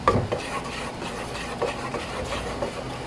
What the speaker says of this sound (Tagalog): Then we constantly mix lang and stir